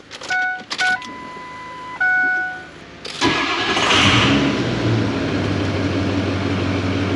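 A Ford 6.0L Powerstroke diesel truck engine with a faulty EBP sensor cranks briefly and then catches with a sudden roar. It settles into a loud, steady rumbling idle close by.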